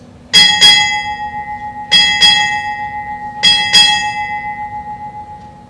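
A Navy ship's bell at a change of command ceremony at Naval Hospital Beaufort, South Carolina, rung six times in three paired double strikes, each bright metallic clang ringing on and fading between pairs, clear with no talk.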